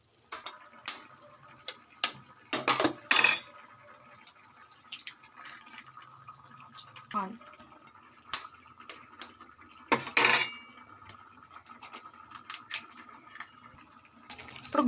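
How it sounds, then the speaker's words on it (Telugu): Eggs cracked one after another into an egg curry pan, a series of sharp taps and clinks against the rim with drips and quiet pauses between, close and moderately loud. "ఇప్పుడు కోడిగుడ్లు కొట్టి వేసుకోవాలి."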